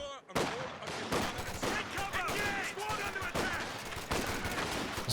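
Rapid overlapping G43 semi-automatic rifle fire in Company of Heroes 2, a long-range battle with riflemen, dense and continuous shots layered with other gunfire throughout, some faint voice-like sounds mixed in.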